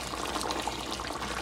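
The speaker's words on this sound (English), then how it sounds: "you're gonna add hot boiling water to it" Hot boiling water pours in one continuous, splashing stream into a pot of cooking curry goat. The pour is close and steady for the whole moment, with no talking over it.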